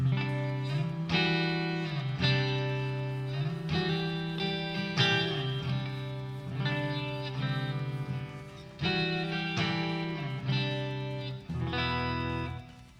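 A clean electric guitar through the Mercuriall Audio SS-11X amp simulator plugin plays chords and melodic lines with sustained, ringing notes and a light effect shimmer, alone with no voices.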